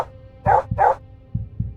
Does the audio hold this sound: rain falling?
no